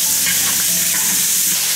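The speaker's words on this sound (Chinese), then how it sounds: "香肠腊肉先把它炒一下，炒香了再把羊肉炒一下" Sausage and cured pork stir-fried in a wok, a steady bright sizzle with scraping stirs of the spatula, close and continuous.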